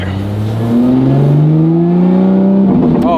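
Lotus Emira with a titanium cat-back exhaust and its valves open in sport mode revs up loudly close by, its engine note climbing steadily in pitch, then it briefly drops back and rises again.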